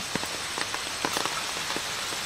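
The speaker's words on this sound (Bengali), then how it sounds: "বৃষ্টি শুরু হয়ে গেছে, কি মজা।" Rain falls steadily outdoors where a village-style chana masala is being cooked, a dense hiss of rain on surfaces with scattered sharper drop taps. No one speaks.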